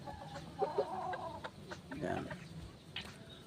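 A gamefowl rooster, a Boston Sweater cross McLean Hatch, clucks in short close bursts while someone talks over it.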